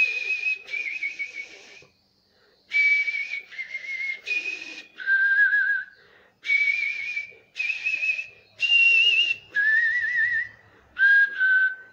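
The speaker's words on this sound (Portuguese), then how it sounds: "Que é a música assobiada." A whistled instrumental melody carries alone in clear, close phrases separated by short pauses, each phrase of sliding sustained notes.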